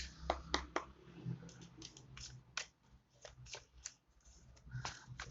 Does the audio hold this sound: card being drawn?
yes